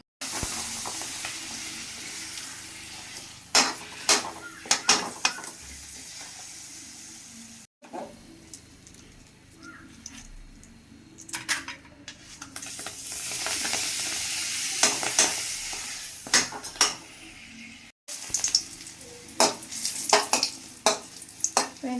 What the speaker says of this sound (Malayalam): നമുക്ക് കുറച്ച് പപ്പടവും കൊണ്ടാട്ടമുളകും കൂടി വറക്കാം കേട്ടോ.